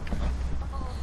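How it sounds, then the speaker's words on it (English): A chicken clucks briefly amid dense, noisy outdoor background sound on a country property. "Belle, is that a chicken"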